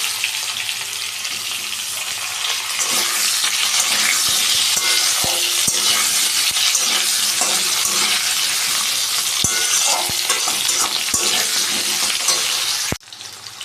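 Long-cut potato strips frying in hot oil in a pan, a loud continuous sizzle close by with scattered sharp clinks and scraping of stirring, ending in a sudden drop in volume.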